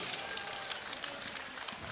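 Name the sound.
audience applause at a martial arts match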